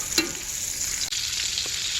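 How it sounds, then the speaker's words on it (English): Chicken pieces browning in bacon grease sizzle and crackle steadily in a pan, with a couple of sharp pops and a brief clatter as they are stirred, close and moderately quiet with no talking. "I'm going to go ahead and start browning the chicken."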